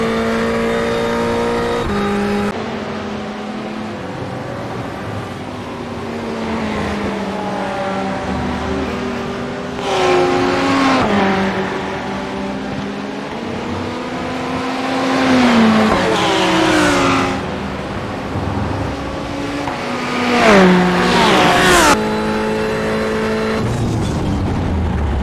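Ferrari 488 race car in iRacing at the Red Bull Ring, its engine revving loud and continuous through rising and falling gear shifts, with sharp upshift surges and brief tyre squeal across the lap.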